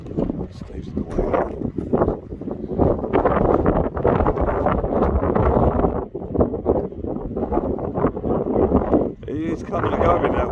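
Strong wind buffeting the microphone at an outdoor wild camp in Scotland, a loud continuous rumbling roar with gusts rising and falling, a voice faintly heard under it.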